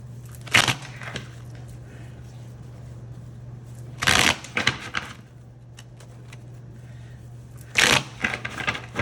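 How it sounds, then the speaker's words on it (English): Tarot cards are shuffled in three separate riffling bursts, each a crisp flutter of flicks with quiet pauses between them and a faint steady hum underneath. "Let's shuffle these up a few times."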